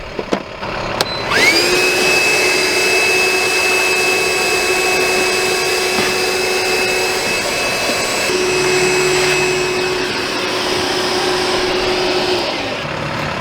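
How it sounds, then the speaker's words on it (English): Milwaukee cordless vacuum starting up and running with a steady high whine while cleaning out a hole at a burst water heater, close and continuous before its pitch shifts slightly near the end. "Get my Milwaukee cordless vac out. We'll vacuum that hole out a little bit"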